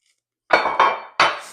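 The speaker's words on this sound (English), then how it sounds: "Look at these cast iron pans." Cast iron cupcake pans knocking together as they are handled: silence, then three sharp metallic clanks with short ringing decay, close and loud, no speech.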